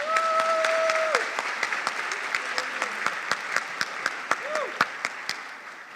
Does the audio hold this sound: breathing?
no